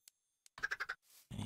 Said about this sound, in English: Chickens. Chickens. Come on, chickens.